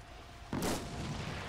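Gunfire in a video game, a single sudden blast after a near-silent lead-in, followed by a sustained rumbling tail at moderate distance.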